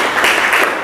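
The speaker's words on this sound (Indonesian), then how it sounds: "Beri aplaus untuk temannya" Applause for a classmate in a university classroom, a dense burst of many hands clapping together, loud and close, lasting under a second with no talk over it.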